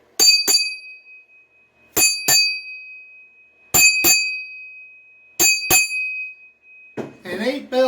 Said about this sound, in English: It is 8 bells on the forenoon watch.